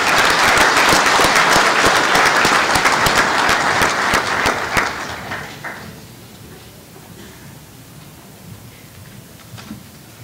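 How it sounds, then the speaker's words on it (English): A large convention crowd applauds award winners at a general session, with loud, dense, sustained clapping that thins out and fades to a quiet room around the halfway point. "Let's give these winners another round of applause."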